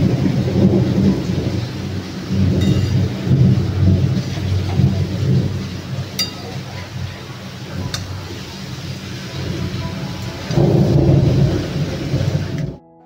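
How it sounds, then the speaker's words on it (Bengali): Heavy rain pours steadily during a thunderstorm with lightning, with thunder rumbling loudly and continuously through the downpour, swelling again near the end before cutting off abruptly. "ভীষণ জোরে জোরে বৃষ্টি পড়ছে, সাথে বিদ্যুৎও মানে চমকাচ্ছে আর কি।"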